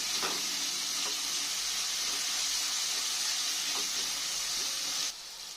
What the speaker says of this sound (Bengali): একটু সব মশলাগুলো একসঙ্গে ভালো করে কষে নেব